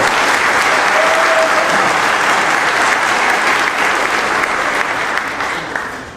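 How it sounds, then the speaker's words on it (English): A large breakfast crowd applauds Mayor Michelle Wu at a St. Patrick's Day event, a loud, dense wash of clapping that holds steady for several seconds and then begins to taper. "Round of applause for Mayor Michelle Wu."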